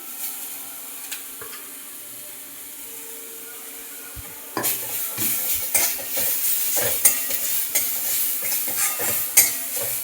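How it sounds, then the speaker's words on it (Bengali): Carrot and cabbage frying in a pan: a quiet background hiss, then a sudden louder sizzle as the carrot is added, followed by repeated scraping and clinking of a spoon stirring against the pan, close with no talking. "ভাজা ভাজা হয়ে গেছে এবার গাজরটা দিয়ে দেবো"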